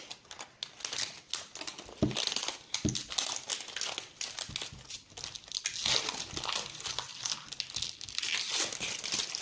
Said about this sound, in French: nous allons ouvrir le deuxième plastique